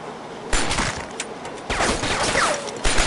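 In the Shadow Ops: Red Mercury video game, enemy gunfire from cover comes as several loud bursts of rapid shots with short pauses between them and no talk over it.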